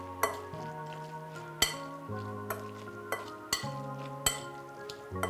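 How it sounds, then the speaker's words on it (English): A spoon stirs sautéed vegetables into a barbecue meatball mixture in a bowl, with a steady series of sharp clinks and scrapes against the bowl, roughly one every second, and low background hum. "I'm gonna go ahead and mix this in well"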